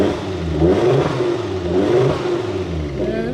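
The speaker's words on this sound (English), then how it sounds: "Give it a few little revs." A Ford Focus RS Mk2, bought after a crash and sounding close to stock, gives a couple of short, moderate revs up and back down from idle, heard close and alone.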